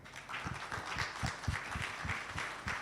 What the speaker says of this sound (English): an applause for the panelists